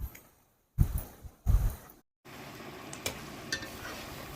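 Gongura chicken is stirred in a pan after ground spice powder is added, with a few scraping, clinking strokes of a spoon against the pan between pauses, then a soft sizzle beneath light taps.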